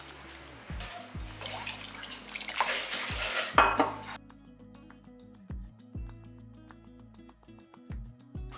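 Tamarind water pours noisily into a pot of vendhaya kuzhambu for a few seconds, with metal clinks of utensils before and after.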